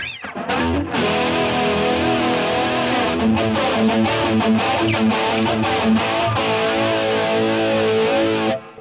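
Clean electric guitar played through a Line 6 POD Express with big reverb and tremolo, ringing arpeggiated chords that sustain loud and continuous, with a washy pulsing shimmer.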